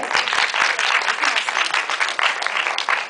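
An audience applauds steadily for standing seniors at a WriteGirl 2010 event, a dense, even wash of many hands clapping close and loud throughout, with faint voices mixed in.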